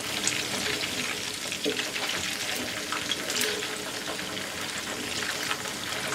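Chicken coated in Thai red curry paste fries on medium-low heat in a pan, giving a steady close sizzle and crackle with scattered spattering pops and no talking.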